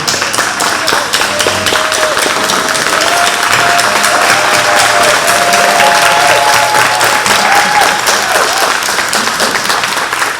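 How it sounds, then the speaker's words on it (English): A large audience gives a sustained, dense round of applause for a university president at a faculty and staff institute, loud and continuous throughout, with a few voices faintly beneath. "If we're to stand and honor him by a great big round of applause, Dr. Moore, come on."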